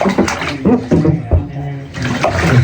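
Hot water pours steadily into a bathtub, a continuous splashing rush heard close by beneath someone talking.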